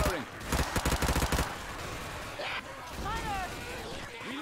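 Left 4 Dead 2 gunfire: a fast burst of automatic shots in the first second and a half, followed by softer game clatter and a brief voice.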